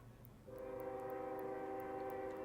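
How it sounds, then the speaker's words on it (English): A train rolling past near a soccer field during a men's soccer match, its horn sounding as a long sustained blast that starts abruptly and holds steady, with faint crowd and field noise underneath. "Taken down by Holloway as the 8-11 train rolls by."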